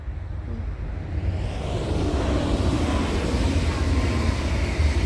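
A train passes on a railway beside a forest path, a loud, steady low rumble and roar that holds and swells slightly across the whole stretch with no voices.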